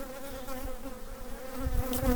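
Late-season honeybee swarm or autumn orientation flight, a steady multi-toned buzzing of many bees close by, fairly faint and slightly swelling toward the end.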